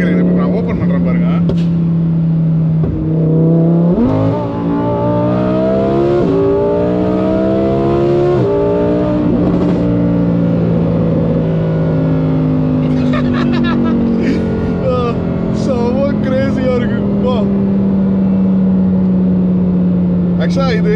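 A Lamborghini's engine revs up in several rising sweeps, then settles to a loud, steady drone, close by, with someone talking over it.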